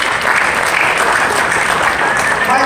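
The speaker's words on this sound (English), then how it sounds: "One more round of applause." Loud, sustained audience applause fills a NAMM 2019 show floor after a presentation of the Yamaha Sonogenic SHS-500 keytar, a dense steady wash of many hands clapping throughout.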